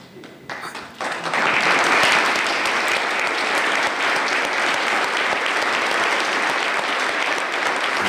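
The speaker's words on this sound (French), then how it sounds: "Les applaudissements" Loud, sustained applause from a large crowd at a formal ceremony, starting with scattered claps and swelling into steady, dense clapping that continues throughout.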